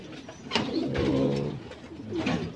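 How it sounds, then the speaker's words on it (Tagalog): Pigeon cooing up close indoors, a few distinct throaty coos in a rising and falling rhythm, clear and fairly quiet with no speech. "Meron pala tayo guys na isang ibon."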